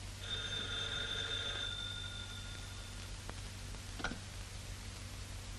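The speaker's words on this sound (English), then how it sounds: "There's the phone." An old telephone in a 1940 Chinatown crime serial rings with a steady metallic bell tone for about two seconds, then fades, leaving hiss and a couple of faint clicks.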